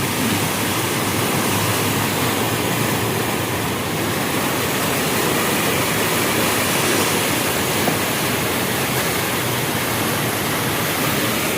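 Loud, continuous roar of brown floodwater rushing in the Marikina River during a typhoon, a dense unbroken wash of noise with no pauses.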